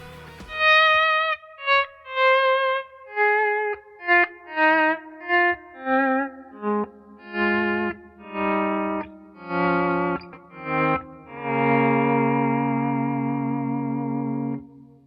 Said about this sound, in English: you can adjust the attack of your note with the volume pedal by picking, then fading your sound in